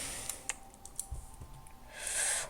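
A computer keyboard is tapped with a few faint, quick, separate keystrokes in a quiet room, no voice heard.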